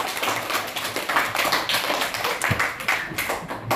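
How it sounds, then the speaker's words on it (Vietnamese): Schoolchildren clap together in a classroom during a celebration, a busy, uneven patter of many hands with a few sharper claps standing out, heard close and without speech. "vỗ tay cho đàng hoàng"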